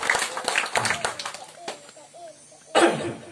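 Rhythmic hand clapping from a church congregation, several sharp claps in a row followed by a louder burst near the end, with a voice and other faint sounds mixed between.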